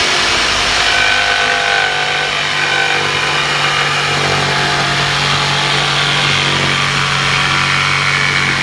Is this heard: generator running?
yes